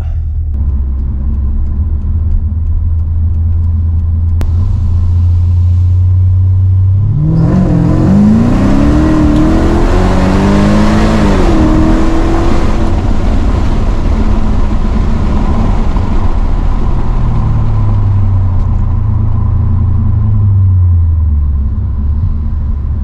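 Mercedes CLK55 AMG with the supercharged M113K V8 pulls hard under full throttle, a loud close rising engine roar with climbing harmonic sweeps that builds for several seconds, then eases back to a steady rumble, with no talk.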